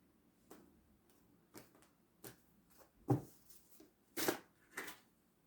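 Tarot cards are shuffled and riffled in short, soft bursts with pauses between, close by and quiet, the last few flicks sharper and louder.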